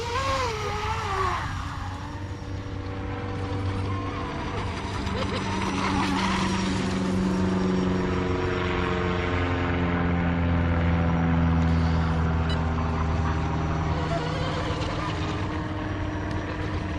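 A hand-made RC boat with a 30 mm Octura 3-blade propeller runs at speed, a steady high motor whine with rising and falling tones, heard from a moderate distance.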